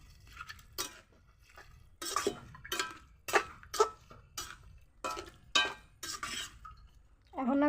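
A utensil stirs pumpkin greens with lata fish and salt in a pan, a series of distinct scraping, clinking strokes in an irregular rhythm, close and moderately loud over quiet background.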